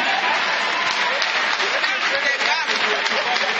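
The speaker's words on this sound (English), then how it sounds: "clap for him" A crowd at a political gathering claps for a dignitary, with continuous dense applause at a steady, moderate level, likely with voices mixed in.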